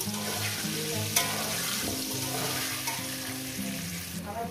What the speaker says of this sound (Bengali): আলুগুলো ভেজে নেব, একদম লাল লাল করে ভেজে নেব, পুরো ভেজে